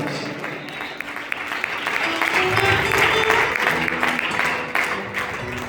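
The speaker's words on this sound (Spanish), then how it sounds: "Fuerte el aplauso" A church congregation applauds after a Gospel reading, loud sustained clapping that swells toward the middle, with a faint voice and cheering mixed in beneath it.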